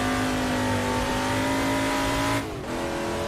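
A touring car engine in Assetto Corsa held at a loud, steady high-rev drone, with a brief dip as the throttle lifts before the engine pulls hard again, no voices over it.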